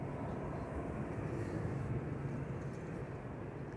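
EasyJet airliner at Amsterdam Schiphol Airport, a low, broad rumble of distant engines holding steady throughout, muffled and fairly faint with no talk over it.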